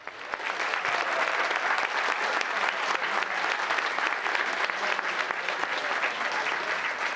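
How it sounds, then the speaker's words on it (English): A town council meeting crowd gives a full, sustained round of applause, dense, loud and even from start to finish, with no talk over it. "please give them another big round of applause"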